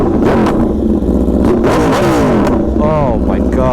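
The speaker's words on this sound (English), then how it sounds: "Anyway, beautiful sounding exhaust. This thing is an absolute monster." A 2021-or-later Aprilia RSV4 motorcycle with an aftermarket exhaust revs loudly and close, its engine climbing and falling in sharp bursts on an open beach, while a voice talks over it.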